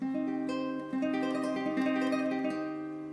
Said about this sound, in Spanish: un arpegio bastante rápido que uno podría tender a pensar que se hace con 4 dedos